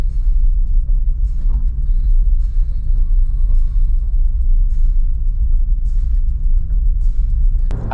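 A delivery driver's car rolling along a road, a steady loud low rumble of engine and tyre noise from inside the cabin with no voices.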